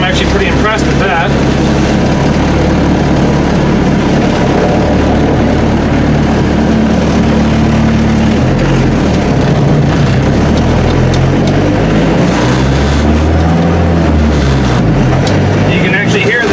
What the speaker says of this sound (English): You can actually hear the turbo.